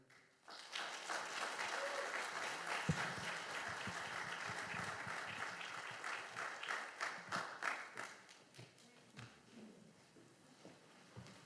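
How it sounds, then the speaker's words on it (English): An audience at a diversity awards ceremony breaks into a long round of applause. The clapping is dense and sustained at first, then thins into scattered claps as it fades. "Let's give them another round of applause."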